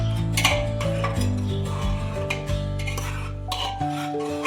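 Chopped onion and salt stirred together inside a pressure cooker, giving continuous scraping and clinking of a spoon against metal, up close, with a steady tonal hum underneath.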